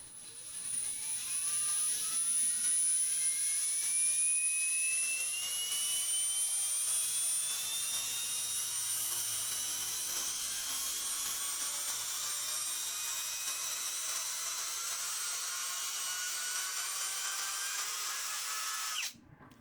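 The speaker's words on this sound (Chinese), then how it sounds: "插一个劈头上去，我们调到一个4档啊，也就是转速非常快，轻轻的按开关" A cordless electric screwdriver set to fourth gear spins at high speed, its motor whining loud and steady with a pitch that gradually rises for nearly twenty seconds before cutting off.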